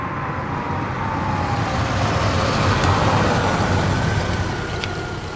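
A BMW car drives through the countryside, its engine and road noise a steady, loud interior rumble with tyre roar, continuous and without voices.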